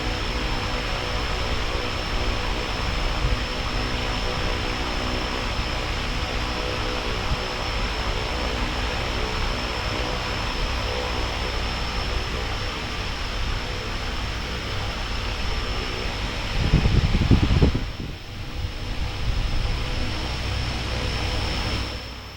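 An RC plane electric motor driven by an ESC and 2200 mAh LiPo battery runs at idle as a steady, even whine with a constant hiss, briefly rising and dipping near the end.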